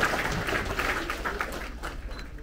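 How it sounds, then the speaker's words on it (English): Audience applause at an elementary school sixth-grade promotion ceremony for Tiger Pride recipients: a steady, moderately distant patter of many clapping hands that continues evenly throughout, with no speech. "Another big round of applause for our Tiger Pride recipients for that month of May."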